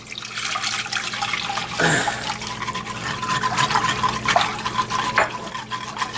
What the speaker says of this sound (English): now we're going to add our beef broth